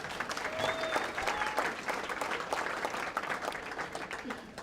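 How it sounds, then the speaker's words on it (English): At an athletes-of-the-year award ceremony, an audience claps in a short, steady round of applause for a student athlete, even and moderately loud throughout. "give a round of applause, brief as it may be, for Susanna Philbrick"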